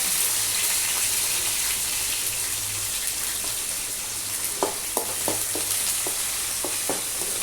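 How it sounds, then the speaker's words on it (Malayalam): Mustard seeds spluttering in hot oil as curry leaves, ginger, garlic and bird's eye chillies fry for a rambutan pickle: a steady close sizzle broken near the end by a run of sharp popping crackles, with no talking. "കടുക് പൊട്ടി, കരിവേപ്പില ഇട്ടു, ഇഞ്ചി, വെളുത്തുള്ളി, പച്ചമുളകല്ല, കാന്താരി, ഇതെല്ലാം ഇടുവാണ്"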